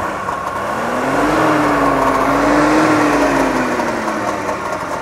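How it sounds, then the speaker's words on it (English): A 1964 DKW F12 saloon's small two-stroke engine, fed by a belt-driven oil injection pump, revs up and eases back in one steady, close swell, a rising and falling buzzy tone heard alone. "Rev it up just a little bit."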